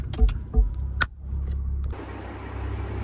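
Turbocharged 500HP BMW engine at night, a few sharp clunks and thumps first, then a steady rising engine drone with a hissy turbo layer as it pulls away, fairly close and loud, no talk.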